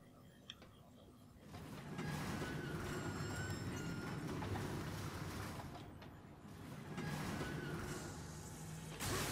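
A train in the video game Darksiders rumbles and clatters steadily throughout, a dense mechanical roar that swells near the start and again toward the end, with people talking over it.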